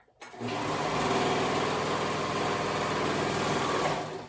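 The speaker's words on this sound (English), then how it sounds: "I'm going to sew that short raw edge together." A sewing machine stitches the short raw edge of leggings, starting abruptly and running as a steady, close, loud motor whir with rapid needle chatter for about four seconds.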